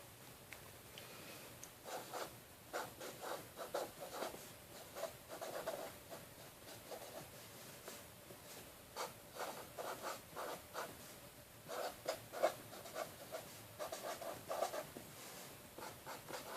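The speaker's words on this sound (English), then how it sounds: "For Postal Service purposes, the address should be written in the center of the envelope with each line right under the other" A pen scratches out an address on an envelope in soft, intermittent strokes, quiet and close, with short pauses between lines.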